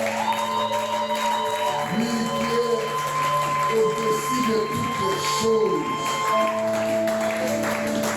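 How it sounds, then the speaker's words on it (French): A church congregation acclaims the Lord during a French-language service, with a loud, sustained mix of crowd voices and shouts layered with steady sustained tones. A preacher's voice speaks over it throughout. "Si nous pouvons donner de bonnes acclamations au Seigneur de gloire"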